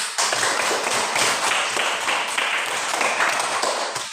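A short round of applause from a small school class, rapid clapping that holds steady for about four seconds before tapering off.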